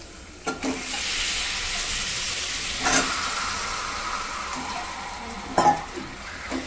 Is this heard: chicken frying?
yes